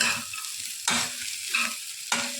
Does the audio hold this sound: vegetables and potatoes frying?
yes